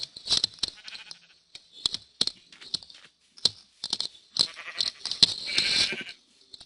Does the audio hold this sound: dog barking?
no